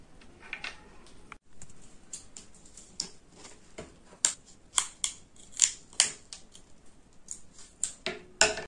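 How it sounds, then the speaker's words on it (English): Scissors cut yellow paper into a flame shape for a kids' Holi bonfire craft, a run of crisp close snips and clicks, irregular at first and then quicker and louder, with no talk. "Cut a flame shape from the yellow paper."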